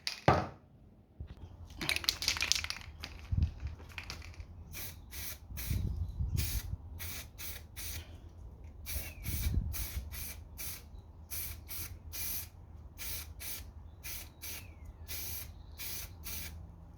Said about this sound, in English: Let's give it a bit of a spray.